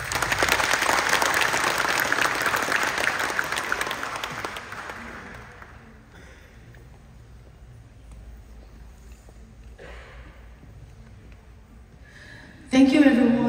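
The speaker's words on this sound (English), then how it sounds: "Let us give our chief guest another round of applause for this." An audience in Indianapolis applauds the chief guest, Chief Minister Lalduhoma, after a Q&A; loud clapping fades out over about five seconds, leaving quiet room noise, then a brief noise near the end.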